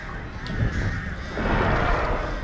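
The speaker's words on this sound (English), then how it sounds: "We got the crows on." Crows caw in the horror video game Dead by Daylight, harsh calls layered over a dense, loud wash of game ambience and rumbling background noise.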